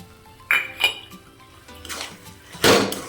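Spoon scraping and clinking against a pan while carrot halwa with jaggery and whole cardamom is stirred, a few separate close metallic strokes with a louder final scrape, no speech.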